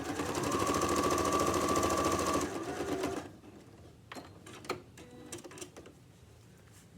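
Sewing machine stitching a tote bag runs fast and close for about three seconds, then halts, followed by scattered clicks and fabric handling sounds.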